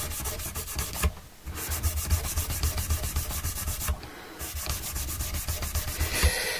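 Guitar frets on a Les Paul rubbed briskly by hand, a rapid, steady back-and-forth scrubbing close up, broken by two short pauses, with no talking.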